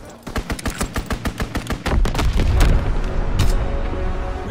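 Rapid machine-gun bursts from a strafing run in the game Call of Duty WWII, a rhythmic string of sharp shots that gives way to heavy rumbling impacts and blasts, loud and close.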